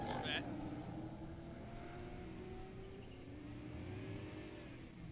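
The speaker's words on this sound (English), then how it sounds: "2010 model Corvette." A 2010 Corvette at a drag-racing event revs steadily, its engine tone rising and settling over a continuous crowd and track-side hum, fairly distant rather than close.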